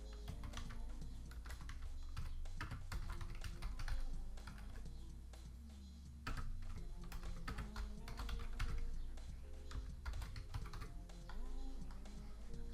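Fast, continuous typing on a computer keyboard at a desk, with crisp close key clicks in an irregular rhythm and occasional heavier thuds from the spacebar or enter key.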